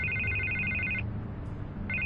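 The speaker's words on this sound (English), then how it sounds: "I can't get the phone to stop ringing." A telephone rings in Batman: The Telltale Series, a bright electronic trill that stops briefly and then starts again, with a low background hum beneath it.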